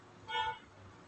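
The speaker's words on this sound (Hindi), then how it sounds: "गाड़ी का हॉर्न सुन के" A short car horn toot in the distance, a single brief honk rising over quiet ambient background noise.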